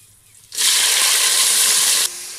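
Onion dropped into hot masala for a paneer gravy: after a brief quiet moment, a loud, sudden sizzling hiss bursts up close, holds strongly for about a second and a half, then drops back to a softer sizzle.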